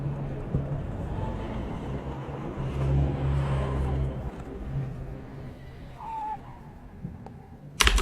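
A synthesized car sound effect moves in from a distance and draws nearer, a broad engine rumble that swells in the middle and then fades, ending with a brief sharp burst.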